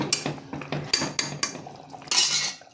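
Mint leaves being stirred into biryani in a metal pot: a quick run of close, rhythmic scraping clinks from a metal spoon against the pot, ending in one brighter clatter, with no voices.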